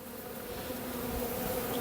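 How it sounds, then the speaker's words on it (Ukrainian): Honey bees humming around an open hive, a close, steady, dense buzz with no voices. "Бджоли предостатньо"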